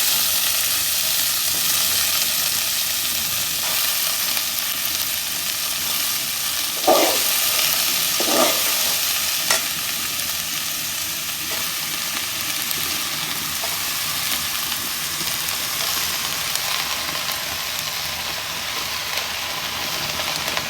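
Chopped onions and onion leaves fry steadily in a pan, a continuous bright sizzle with a couple of brief stirring scrapes, close and alone without talk.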